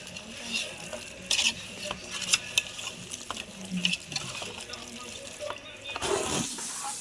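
Fish pieces being hand-mixed with salt, spices and oil for a fish fry, giving soft, wet squelching and stirring sounds at close range that come and go over the whole stretch, with faint kitchen background.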